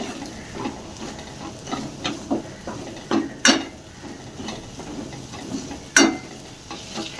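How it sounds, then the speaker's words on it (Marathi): Red chilli powder and Kashmiri chilli fry in oil for Puneri misal, with repeated spatula scrapes and taps on the pan over a light sizzle. "हे मसाले चांगले तेलामध्ये परतून घ्यायचे."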